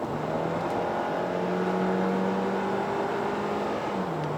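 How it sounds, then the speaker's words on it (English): A 2019 Hyundai Tucson engine in sport mode revs steadily under hard acceleration, a sustained droning hum with a slowly shifting tone, heard from inside the cabin over constant road and wind noise. "The second sound is actually the engine noise when you push the car."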